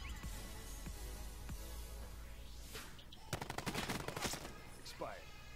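Maddox RFB rifle fire in Call of Duty Black Ops, a tight burst of rapid shots in the middle of the clip over steady game ambience, with a voice talking faintly underneath.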